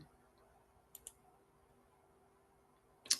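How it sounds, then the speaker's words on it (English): Faint mouse or trackpad clicks on a laptop in a quiet room: two quick clicks close together early on, then a sharper, louder click near the end, with low steady background hiss between. "Oh, sorry, I'm clicking something. I'm doing this on my laptop"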